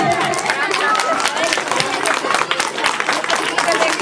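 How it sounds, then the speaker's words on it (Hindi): School children clap densely and steadily at an annual school function award ceremony, a close, continuous patter of many hands with a voice speaking over it. "कम से कम स्कूल के बच्चे ही ताली बजाए, स्कूल के बच्चे ताली बजाए जोर से"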